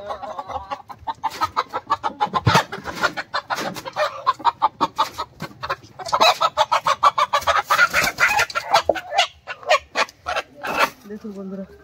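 A desi rooster clucks and squawks in rapid, choppy bursts close by, with a brief crow-like call near the end and some faint human voice in the background.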